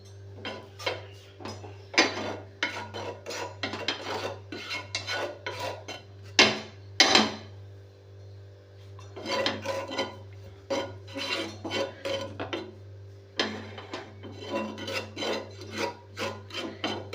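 Chilli powder being stirred into a boiled egg and tomato fry, a spoon scraping and rasping against the pan in repeated bursts with brief pauses, close and fairly loud, over a steady low hum, with no talking.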